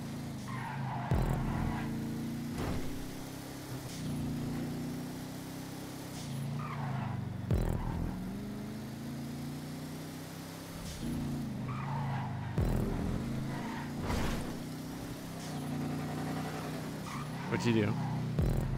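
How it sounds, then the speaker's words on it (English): A race car drifts through corners in GTA 5, its engine droning steadily while tires squeal in long sliding skids that repeat every few seconds, with people talking over it throughout. "Nope, drifting."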